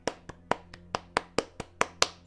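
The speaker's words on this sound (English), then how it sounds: "That's me clapping." Bare hands clap ten times in a crisp, evenly spaced run of about four claps per second. Each clap is sharp and close, with a short decay, and nothing else is heard.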